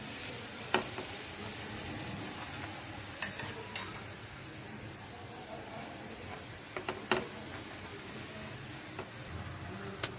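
Rice flour roti sizzles in ghee on a pan, a steady soft frying hiss with occasional faint ticks and light clicks, close and continuous with no talking.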